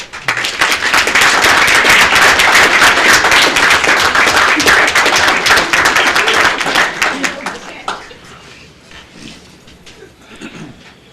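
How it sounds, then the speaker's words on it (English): A crowd at a city commission meeting applauds educators with loud, dense clapping that holds steady for several seconds, then tapers off into a few scattered claps and quiet room sound. "let's just give them a round of applause."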